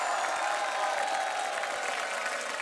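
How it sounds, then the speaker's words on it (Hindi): A television studio audience in India claps loudly and continuously, a dense, even roar of applause with no voices over it. "तो इनके लिए तालियां हो जाएं भरपूर"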